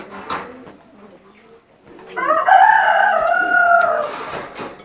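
Teddy pigeons in a high-flyer loft coo in a soft, rolling call that swells and lingers for a couple of seconds after quieter rustling, close by, with no clear speech.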